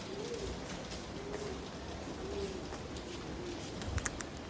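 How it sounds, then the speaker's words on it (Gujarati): Rain falls steadily in a soft hiss, while a dove coos repeatedly in the background and a few faint taps sound near the end. "અહીંયા વરસાદ પડી રહ્યો છે"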